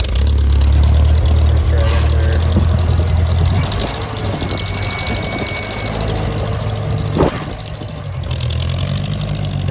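A 1959 J I Case 311B tractor engine runs close by with a steady, low chugging idle and a mechanical clatter, holding even throughout.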